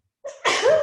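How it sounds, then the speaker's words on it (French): A single close, loud human sneeze with a short indrawn build-up followed by an explosive burst, heard alone without talk. "Un petit peu, il faut que j'éternue."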